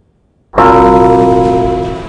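A single bell strikes sharply and rings on with a sustained metallic tone that slowly fades, loud and alone, used as a sting for a Hindi TV news show.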